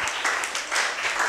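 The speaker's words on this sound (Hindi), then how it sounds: "बहुत ही रेनू के लिए जरा तालियां बजा दो भाई," Students in a school computer lab clap for a classmate, a brief, fairly quiet round of scattered, uneven applause.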